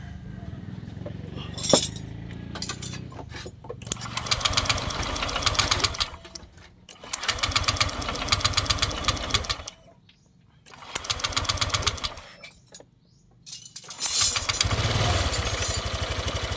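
A Honda Click 125 scooter with its ignition on and a clogged fuel filter, its engine revving in several loud bursts with short quiet gaps, the mechanical note rising and falling close by.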